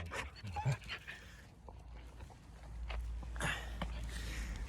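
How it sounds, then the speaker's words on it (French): A dog pants in quick, breathy bursts close by, with some shuffling and a low steady rumble underneath. "Oh oui mes chiens"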